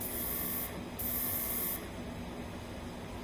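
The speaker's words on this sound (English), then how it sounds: "I press the button and it turns on the air compressor." The small compressor of a Pelcas rechargeable 32 psi airbrush kit runs with a steady, soft hiss and hum. Brief brighter bursts of air break in twice, and the recording is close and fairly quiet.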